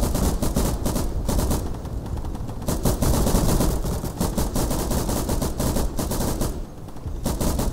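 Rapid gunfire in Day of Infamy multiplayer, loud dense bursts of automatic and rifle shots crackling almost nonstop, close and overlapping throughout.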